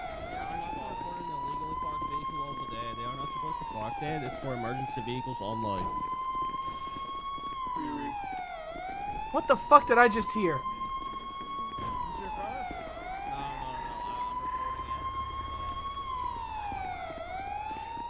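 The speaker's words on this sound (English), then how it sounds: "I'm turning the siren on. It's driving me crazy." Police car siren in a Garry's Mod roleplay game, a steady wailing tone that rises and falls in slow cycles throughout, with someone talking over it and a short burst of clatter partway through.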